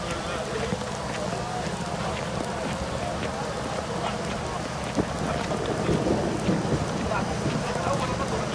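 Rain pours steadily during a thunderstorm on the plain of Arafat, a dense, close hiss with low thunder rumbling underneath and faint voices mixed in.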